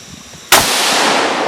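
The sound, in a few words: two gunshots at a shooting stage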